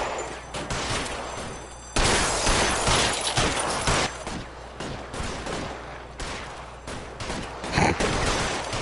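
A shootout in LA Noire Remastered: loud, sharp gunshots crack in irregular volleys, some close and some farther off, with a heavy burst around the two-second mark and more reports through the rest.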